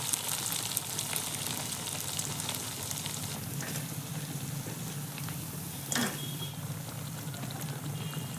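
Sabudana vadas deep-frying in hot oil over a low flame, giving a soft, continuous bubbling sizzle with a few faint metallic clinks and no talking.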